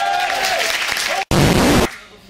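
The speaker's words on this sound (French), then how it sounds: "j'aimerais qu'on applaudisse très très fort Monsieur Ancel et Démosthène" An audience at a French student eloquence contest claps loudly, a voice sounding over the first part before a brief cut and a burst of full applause that then fades.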